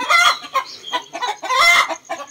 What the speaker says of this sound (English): I think there's a hen laying eggs there. She's mad because I take her egg.